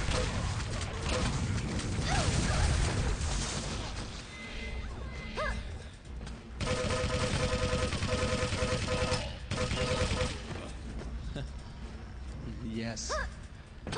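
Rapid gunfire in the video game Quake 3 during a CPL Oslo tournament final, with quick bursts of shots and weapon effects running under continuous excited commentary from casters.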